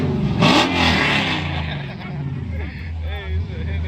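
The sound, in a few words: car engine revving at a car meet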